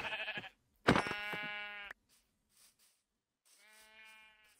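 Sheep bleats from the video game Minecraft: three distinct wavering calls, one short, one long and loud, then a fainter one after a pause, with no talk over them.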